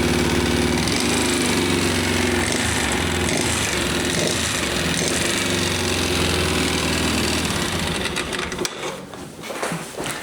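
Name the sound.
125cc four-stroke motorcycle engine revving with throttle blip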